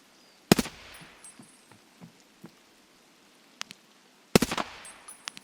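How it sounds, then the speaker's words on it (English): Two sharp, loud sniper gunshots in a hardcore first-person shooter video game, about four seconds apart, each with a short echoing tail, separated by faint scattered ambient ticks. "I really don't know where I'm getting shot from"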